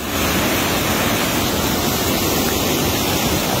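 Loud, steady roar of rushing water, a full continuous wash of turbulent river flow swollen by torrential rain in the Retezat mountains, with no pauses.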